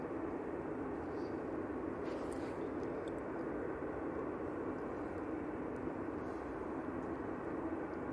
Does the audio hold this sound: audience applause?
no